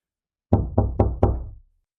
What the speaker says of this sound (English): the sound of a knock echoed through the house